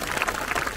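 An audience claps at a women's group Ganapati Atharvashirsha recitation event, a short burst of dense, steady applause from a crowd.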